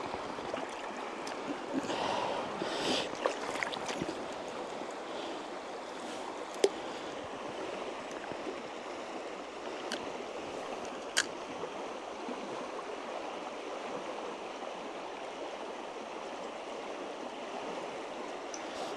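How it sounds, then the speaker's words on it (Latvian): Steady broadband rush of a flowing stream heard while fishing, continuous and moderately loud throughout, with a couple of brief sharp clicks and no speech. "Man ir lielajā straumītē."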